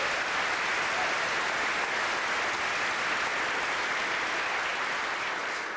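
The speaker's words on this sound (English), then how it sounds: "let's give him a round of applause." Steady, dense applause from a town hall forum audience for a radio interviewer, even and continuous throughout with no break or voices.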